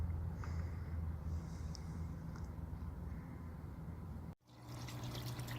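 Water runs steadily into an outdoor cichlid pond, a continuous low rush and trickle with a brief break near the end before the flow resumes.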